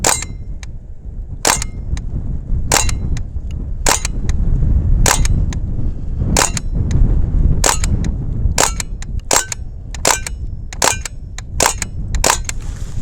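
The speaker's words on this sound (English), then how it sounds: "I'm shooting and I'm hitting exactly where I'm aiming with this Tommy gun, this BB Tommy gun" Full-auto BB Tommy gun firing, a steady run of sharp, snappy shots with bright metallic clicks, spaced roughly every half second over a low background rumble, close and loud with no talking.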